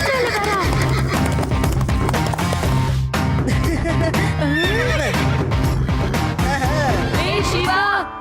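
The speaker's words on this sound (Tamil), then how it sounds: "நாங்க குதிரை மேல வரோம்." Horses running and neighing, with several whinnies rising over a dense, loud bed of music and effects that plays continuously throughout.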